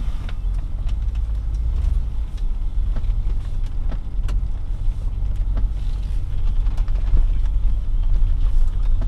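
Audi A6 allroad C5 with the 4.2 V8 cruising along, its steady engine and road roar heard from inside the cabin with wind noise, rising slightly toward the end; no voices.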